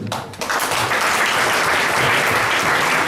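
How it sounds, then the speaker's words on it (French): A conference audience bursts into loud, dense applause that swells quickly and holds steady, with many hands clapping at once close to the microphone. "faites du bruit pour vous-même"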